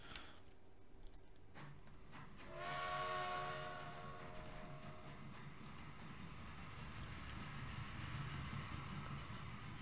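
A train in Transport Fever, a faint rolling rumble with a sustained horn or whistle tone sounding for a few seconds near the start, then steady low running noise.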